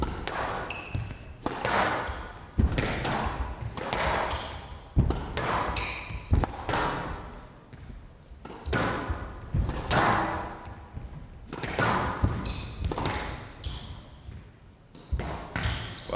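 A squash ball strikes sharply again and again in a rapid rally during a professional women's semifinal at an indoor court, each hit crisp and close, with faint crowd ambience in between.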